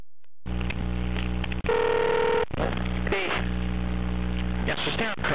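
Pay phone in a phone booth gives out a steady dial tone and a burst of dialing tones over a constant mains hum, close and fairly loud, with brief clicks and no speech.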